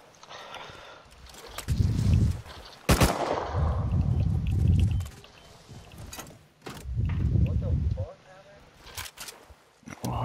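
An auto turret fires AK gunfire in the video game Rust, sounding as repeated loud bursts of rapid shots with sharp cracks between them, while a person talks over part of it.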